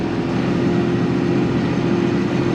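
A Kubota Grand L3560 tractor pushes snow in rabbit gear at about 3.5 mph, its engine a steady, loud, droning hum with a constant low tone and no pauses.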